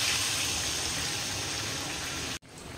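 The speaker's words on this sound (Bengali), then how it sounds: "এবার আমি গরম জল দিয়ে দিলাম।" Hot water pours steadily into a pot of chicken curry as a close, rushing gush that cuts off abruptly near the end, leaving a quieter hiss.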